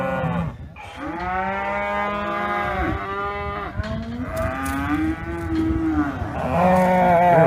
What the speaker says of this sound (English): So we got our steers color coded from our heifers.